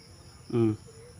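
Buzzing of wasps (putakti) outdoors near leaves, a brief rising drone lasting about a quarter second over steady background insect hiss.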